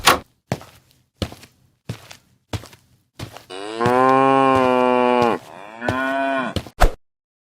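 A cartoon cow lets out a long, loud moo, then a shorter second one, in a scene about a sacrificial cow being sold for Eid al-Adha; several sharp thumps come before and after the calls.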